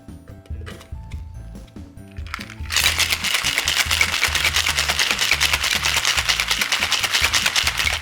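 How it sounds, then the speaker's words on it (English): Ice rattles hard inside a cocktail shaker, a rapid dense rhythm of clattering that starts partway through and continues steadily and loud to the end, after quieter handling sounds. "Now shake until well chilled."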